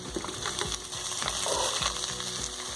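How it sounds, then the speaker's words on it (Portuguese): Kale and calabresa sausage sizzle and fry steadily in a hot pan, with repeated stirring scrapes and clicks of a utensil over the continuous crackle, fairly loud and close. "Mexe bem a couve para dar uma refogada nela também"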